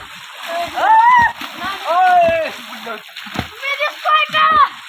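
Water splashes in a well as children jump in, with several loud splashing bursts broken up by excited children's shouts and voices throughout.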